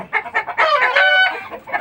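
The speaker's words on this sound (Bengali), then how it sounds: "মুরগিগুলো দেখতে পারতেছেন অনেক সুস্থ এবং সবল" A flock of beak-trimmed parent-stock hens on a Tangail poultry farm clucks loudly and near, short bursts swelling into a sustained squawking cackle that fades back into scattered clucks.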